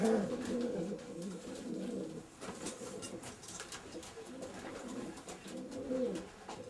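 Racing pigeons coo steadily at close range in soft, throaty rolling calls, with an occasional flutter of wings.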